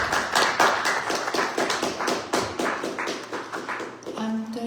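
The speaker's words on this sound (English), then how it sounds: "Let's give her a big round of applause." An audience at a church service applauding: a dense run of steady, close handclaps, with a piano or organ chord entering at the end as the applause tapers.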